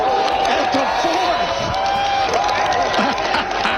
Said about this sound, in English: Here's the roar of the crowd.